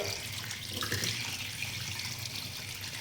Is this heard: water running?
yes